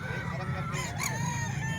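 A rooster or chicken, a fighting cock up for sale at a market, clucks and calls close by over a low background hum and murmur of people.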